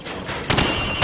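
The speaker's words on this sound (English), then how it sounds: "Now, shoot at the targets while firing from the hip." Rifle shots fired from the hip in Call of Duty 4, heard as two or three sharp, loud gunshot bursts with a gap after the first, each one alone over steady game background noise.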